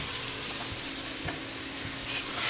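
Allspice and thyme sizzle steadily in hot oil, a continuous close frying hiss with a few faint clinks, with no voices.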